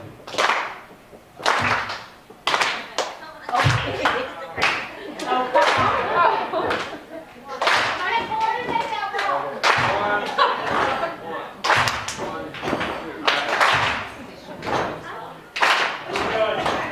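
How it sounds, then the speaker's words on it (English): Hand claps alternating with foot stomps in a rhythmic routine, sharp slaps and thuds repeating steadily and close, with a voice talking over and between the beats. "between the claps, you're going to alternate one stomp and then two stomps"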